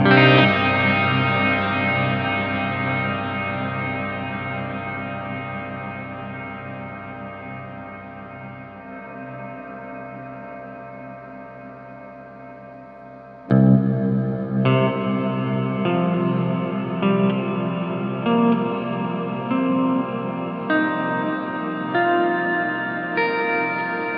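An unfiltered hall reverb set to maximum decay washes out sustained guitar chords into a long, slowly fading tail, then a fresh chord strikes loudly and rings on in a dense, shimmering wash.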